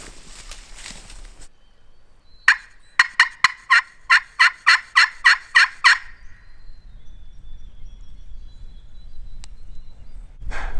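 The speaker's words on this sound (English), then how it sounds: "we heard a bird gobbling over here" A wild turkey gobbles in a rapid run of about ten loud, sharp calls between ridges on public hunting land, after a stretch of rustling; the calls are fairly near and clear, with quiet ambient noise afterward.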